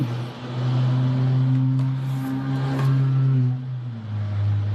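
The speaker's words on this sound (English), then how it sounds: "That car's been going by all day." A car engine hums steadily and fairly loud for several seconds before fading off, like a vehicle driving past nearby, with no voices.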